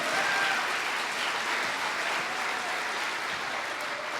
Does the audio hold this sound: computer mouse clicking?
no